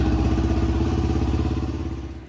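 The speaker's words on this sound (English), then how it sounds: "So all I'm doing here is warming up the bike." A Yamaha WR250R motorcycle engine idles while warming up before an oil change, a close, loud, steady rapid thumping that fades slightly toward the end, with no talk.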